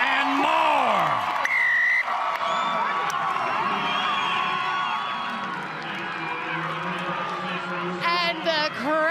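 A stadium crowd at a women's rugby sevens tournament in Glendale cheers and whoops loudly after a try. The roar holds steady under an excited commentator speaking throughout.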